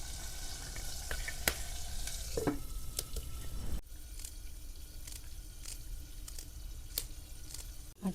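Whole onion cooking in a covered pan on a village kitchen stove, giving a steady sizzle and crackle with scattered sharp pops and brief stirring clatter. No one speaks.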